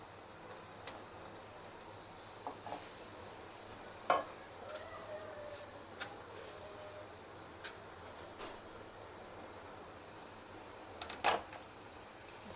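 Minced meat frying in a pan with browned onion, garlic, ginger and cumin for a bean keema dish: soft continuous sizzle with occasional clinks and scrapes of stirring, quiet and steady.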